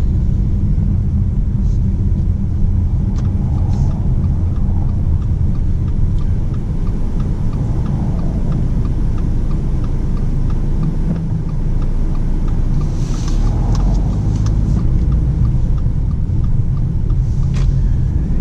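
A Subaru Ascent SUV's steady engine rumble roars continuously under road noise as it accelerates from a stop, holding strong throughout with occasional faint clicks and higher whines.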